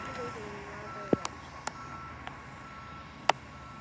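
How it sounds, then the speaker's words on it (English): A dump truck at a busy construction site, with a steady reversing beep tone and a few sharp metallic clanks and knocks at middle distance, under faint background talk. "Here's a dump truck dumping"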